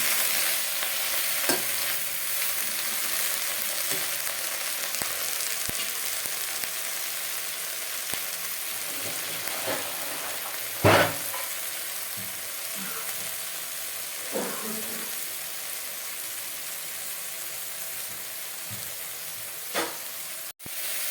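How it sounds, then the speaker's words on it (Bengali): Bottle gourd leaves salted and stirred over a low flame in a frying pan, giving a continuous soft sizzle broken by occasional scraping strokes of a spatula, close up with no talking. "ফ্লেমটা আস্তে করে আমরা নাড়ব যতক্ষণ না লাউ পাতাটা অল্প সিদ্ধ হতে হচ্ছে।"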